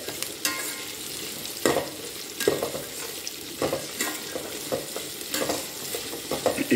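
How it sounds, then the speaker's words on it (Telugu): Onions fry in plenty of oil for mint rice, a steady low sizzle broken by repeated loud stirring scrapes and clatters of a spoon against the pan every second or so, with no talk. "ఆ లైట్ బ్రౌన్ కలర్ వచ్చేదాకా మనం ఈ ఆయిల్ ఎక్కువ ఉంటుంది కదా దానిలో వేయించుకుంటా ఉండాలి"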